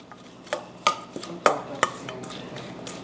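Chimichurri with bone marrow stirred in a bowl, a utensil clinking and scraping against the sides in a few distinct taps and short scrapes, close and fairly quiet.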